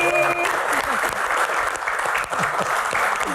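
Audience applause at a live Q&A comedy show, a dense, steady clatter of many hands clapping loudly throughout, with some voices mixed in.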